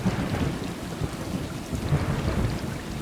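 A thunderstorm in the video game Stray, played in VR: a steady rush of rain with low, rolling thunder rumbling continuously underneath, dense and enveloping with no voices.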